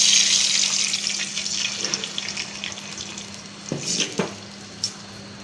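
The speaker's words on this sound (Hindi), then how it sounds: "अब मैं इसमें डालती हूँ ये 1 प्याला पानी है।" A cup of water is poured into a pan of crackling cumin seeds: a loud close rush at first thins into a soft hiss, broken later by a few sharp clinks and spits.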